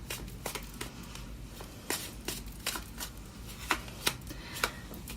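Tarot cards are drawn and shuffled from the deck, close, with a run of quick papery flicks and snaps spaced across the moment.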